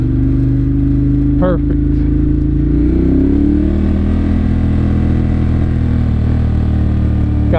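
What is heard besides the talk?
Ducati Monster 1200 S motorcycle engine revving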